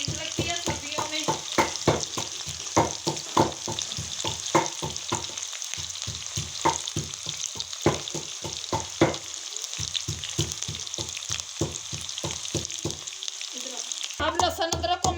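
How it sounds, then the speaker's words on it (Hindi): Onions browning in a pan for a Pakistani mixed vegetable dish give a steady, close sizzle and crackle throughout, with repeated stirring clatters and a brief pause near the end. "इनको करेंगे हल्का ब्राउन, अच्छी तरह से हल्का ब्राउन कर देंगे प्याज़ों को।"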